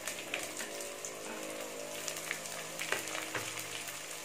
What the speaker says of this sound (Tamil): இது எல்லாத்தையுமே சேர்த்து நல்லா வதக்கிடணும்.